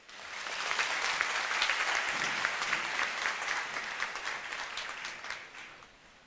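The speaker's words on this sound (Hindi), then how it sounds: "जोरदार तालियों से स्वागत करें" Enthusiastic crowd applause at a foundation-day gathering in Bihar, swelling quickly to a full, dense ovation from many hands and tapering off at the end.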